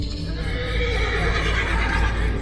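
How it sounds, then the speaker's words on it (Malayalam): At Expo 2020 Dubai, a horse neighs loudly with a long, wavering whinny, while hooves clop faintly underneath. "എവിടുന്നോ ഒരു കുതിര പോകുന്നുണ്ടല്ലോ"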